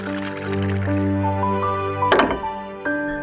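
A glass is filled with water, a rising tonal gurgle as the level climbs, then a sharp clink or splash near the end followed by a short resumed pour.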